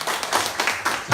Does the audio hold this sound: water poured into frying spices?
no